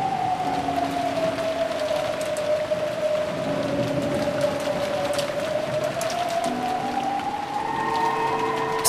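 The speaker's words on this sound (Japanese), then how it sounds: "すごい風と雨だ" Strong wind and rain howl steadily throughout, a broad rushing wash with a sustained whistling tone that slowly dips and rises, heard alone with no voices.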